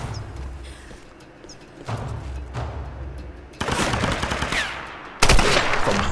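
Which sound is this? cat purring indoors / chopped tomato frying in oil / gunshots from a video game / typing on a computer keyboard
gunshots from a video game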